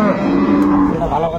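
A dairy cow at the Ambari cattle market in Dinajpur, where cows are sold with their calves, gives a loud, close, drawn-out moo lasting over a second.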